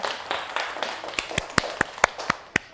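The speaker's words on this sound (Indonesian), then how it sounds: "ya tepuk tangan dulu buat teman-teman kalian" A classroom audience applauds classmates during a microteaching lesson, with about a dozen sharp, fairly sparse claps in an uneven rhythm, close and moderately loud, and no talk.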